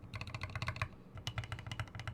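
Rapid typing on a tiny Dimple+ 40% mechanical keyboard with lit stabilizers, crisp close clacks in quick uneven bursts with a brief pause midway.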